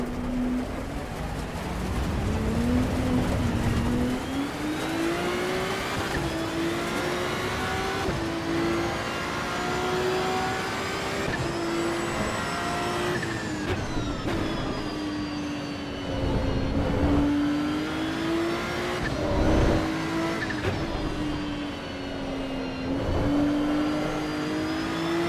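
A Ferrari's engine revs continuously in the Assetto Corsa racing game, its steady tone rising and falling with gear changes and throttle. The loud, sustained drone runs through the whole stretch without any talk.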